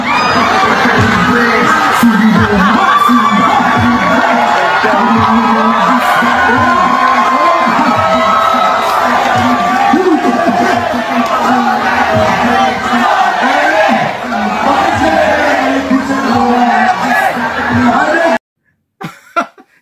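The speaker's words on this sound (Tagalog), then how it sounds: "Kahit sa away na matinding awayan Duterte pa rin ang sigaw" A dense crowd of Filipino supporters shouts and chants in unison for Duterte amid a heated street confrontation, voices loud and continuous throughout before cutting off abruptly near the end.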